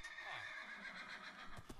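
A horse in the Minecraft video game whinnies, a quiet, wavering neigh followed by a couple of brief thuds, with a faint voice nearby.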